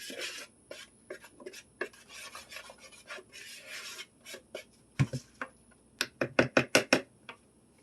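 A whisk scrapes nutmeg and other ingredients together in a bowl, quick rhythmic rasping strokes that grow sharper and more clipped toward the end, close and fairly loud with no talking.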